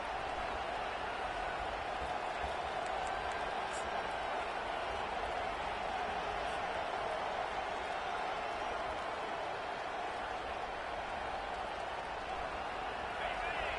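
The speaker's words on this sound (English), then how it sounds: "This crowd bringing the energy and noise early" A steady, dense roar of a large stadium crowd in a video game, constant and loud throughout, with no breaks or distinct cheers standing out.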